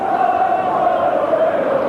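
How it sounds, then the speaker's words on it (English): A stadium football crowd roars in a sustained, loud wash of massed voices with a chanted tone rising above it, heard at Villa Park on a wet, blustery Birmingham night during a Zenith Cup northern final between Aston Villa and Middlesbrough. "with the crowd immersed in this cup tie."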